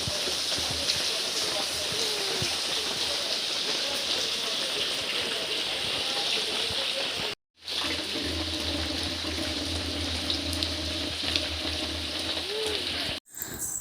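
Heavy evening rain drumming on a tarpaulin shelter, a dense, loud, continuous patter that cuts out briefly twice, with a voice speaking over it.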